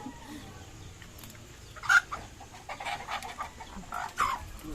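Chickens cluck in short bursts against a steady outdoor background, with a few sharper calls standing out.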